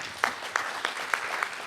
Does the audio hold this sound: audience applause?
yes